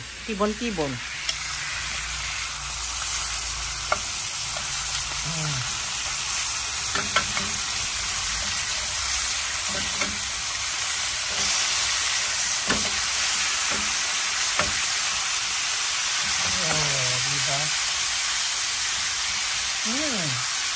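A T-bone steak fries in a pan with a loud, continuous close sizzle and crackle, while voices talk intermittently over it.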